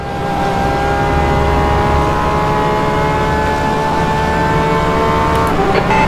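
A Porsche 911 RSR GTE race car engine drones at steady high revs around the Portimao circuit in rFactor 2. The roar is loud, close and sustained with a constant pitch and a strong low rumble.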